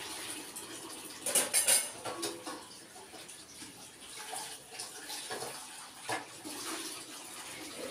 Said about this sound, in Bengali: বাসনগুলি মাজবো